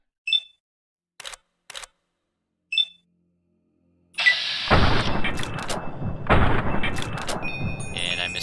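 Gunfire in Fallout: New Vegas during VATS targeting: a few short clicks and beeps, then two loud, heavy shots about a second and a half apart, each followed by a rumbling, echoing tail.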